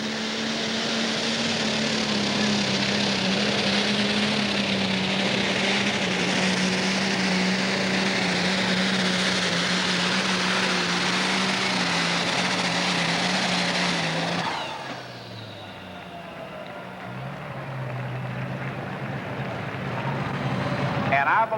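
A Cockshutt 570 tractor at a tractor pull in the Super Stock class roars loud and steady for about fifteen seconds, then drops off sharply, and the engine note falls back to a lower idle before building again.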